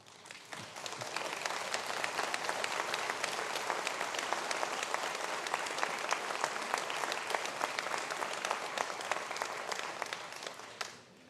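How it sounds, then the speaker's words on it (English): An audience at a university conferring ceremony applauds graduating students, a steady, dense round of clapping that holds for about ten seconds before tapering off. "stand for a round of applause"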